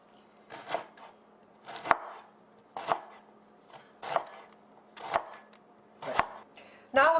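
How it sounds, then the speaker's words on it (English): A knife slices burdock root on a cutting board at a bias into thin, even slices, making six or seven crisp, separate chops at a slow, steady pace, with a brief scraping rattle at the end. "then we're going to do the same, cutting it at a bias into nice, even,"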